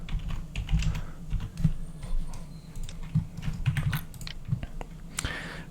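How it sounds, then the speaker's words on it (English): Keys clatter on a computer keyboard close by in quick, uneven bursts of clicks and taps, with short pauses between runs of typing. "So I'll just type here for option 1, just graphic override."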